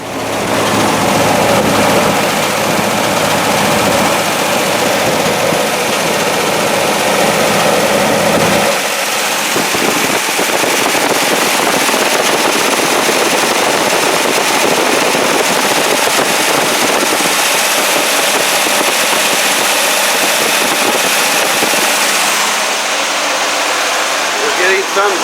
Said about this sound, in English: So let's get this thing fired up.